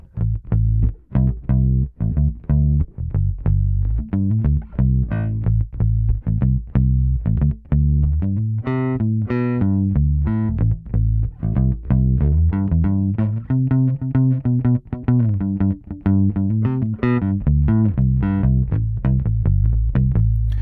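A Fender American Professional Classic Mustang electric bass is picked with a plectrum in a steady run of sharp, distinct notes with bright attacks, playing a melodic line alone and up close.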